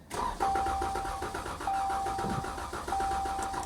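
A Chevy Z71 pickup with 190,000 miles, out of fuel, cranks without starting: a loud, close, rhythmic starter churn lasting several seconds, with a steady warning chime repeating over it.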